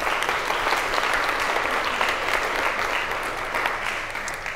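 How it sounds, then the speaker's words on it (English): An audience at a conference session on reading applauds: a steady, full wash of clapping from many hands that holds evenly throughout and eases slightly at the end. "Round of applause,"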